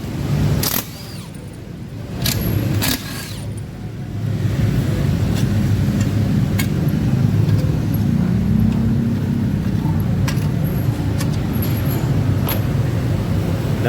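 Rough, gritty drone from the CVT of a Yamaha NMAX 155 scooter running with a hot engine, dirty transmission and worn, lightened rollers. A few sharp clicks open it, then a steady, fairly loud rumble settles in and holds to the end.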